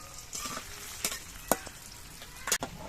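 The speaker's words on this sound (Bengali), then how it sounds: "পনিরগুলো কিন্তু আমি দুবারে ভেজে নিচ্ছি" Paneer frying in a pan, with a soft steady sizzle broken by a few sharp crackles and stirring clinks, close and quiet.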